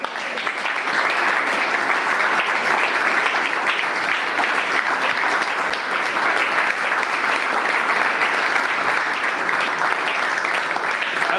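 A church congregation claps and applauds in praise, a dense, steady wall of hand clapping that runs loud and unbroken throughout, with no voices standing out.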